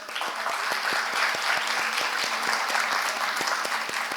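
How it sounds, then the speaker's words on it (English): An audience at the opening of the fifth MHM India Summit 2025 claps steadily and loudly for about four seconds, a dense even wash of applause with no voices over it. "can we start this wonderful day with a huge round of applause?"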